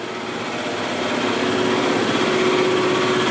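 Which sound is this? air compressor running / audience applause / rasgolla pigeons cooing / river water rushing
air compressor running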